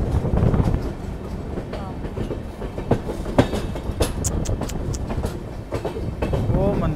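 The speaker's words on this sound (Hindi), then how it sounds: "वो देखो ट्रेन, वो देखो चढ़ाई चढ़ रही है" A train climbing an incline near Dudhsagar waterfall in Goa, heard from on board as a steady rolling rumble with clicking wheel beats and occasional sharp squeals, with voices talking over it.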